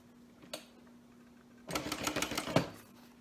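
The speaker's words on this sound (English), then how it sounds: "We're going to top stitch right along there." A sewing machine top stitching a seam beside a zipper whirs in a quick run of rapid stitching after a brief quiet pause, with a faint steady hum underneath.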